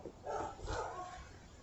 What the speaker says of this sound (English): Neighbor's dog.